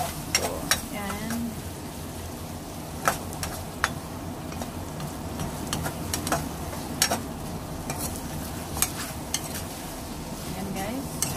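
Garlic frying in a pan for Filipino ginisang monggo, a steady close sizzle with sharp clinks and scrapes of a utensil stirring against the pan at irregular intervals.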